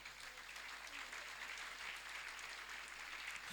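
A congregation applauds during a Sunday Christian church service, a steady, faint, dense clapping that continues evenly for a few seconds.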